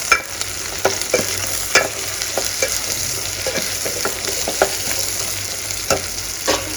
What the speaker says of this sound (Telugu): సో మునక్కాయలు కూడా వేసుకొని బాగా వేయించుకుంటున్నాను.